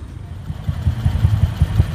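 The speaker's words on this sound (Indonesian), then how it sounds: "Nah, ini mesin saya nyalakan." Honda Astrea Grand motorcycle engine with a custom velocity stack, open-filter carburetor and bolt-through exhaust, running at a steady, lumpy low idle close by, with no talk.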